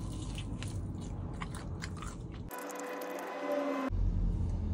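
Biting and chewing Wingstop Atomic chicken wings, close and crunchy, with wet chewing sounds through the first half, a brief quieter gap, then louder chewing again toward the end; no talking.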